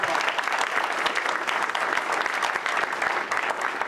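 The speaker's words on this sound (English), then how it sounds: "Let's give them a round of applause." Loud, dense applause from an audience at a compressed natural gas truck fleet launch event, continuous claps filling the room for a few seconds.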